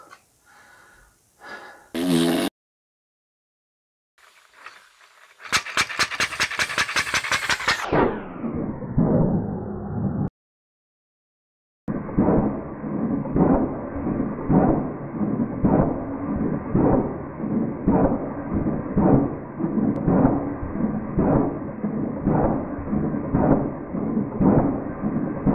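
A 3D-printed compressed air engine with a leaking ball valve runs steadily, giving a fast, rhythmic puffing chuff under a constant airy hiss, after an earlier burst of air that slows and cuts out.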